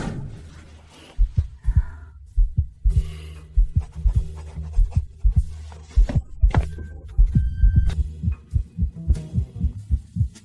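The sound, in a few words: fast heartbeat sound effect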